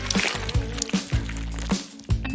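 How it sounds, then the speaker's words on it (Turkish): Chocolate squeezed out of a cut wrapper corner onto a notebook gives a series of wet squishing, sloshy squeezes in an uneven rhythm, close and fairly loud, with no speech. "Şimdi defterine sıkıyorum."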